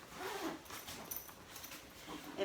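A zipper on a bag pouch being pulled open, a steady rasping run of teeth close to the microphone lasting a couple of seconds with small bursts and tugs along the way, no talking.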